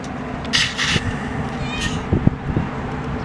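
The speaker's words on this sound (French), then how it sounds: "vous voyez, chers amis, le chat vous parle" A cat meows twice in quick succession, fairly close, with a few soft knocks and low background hum around it.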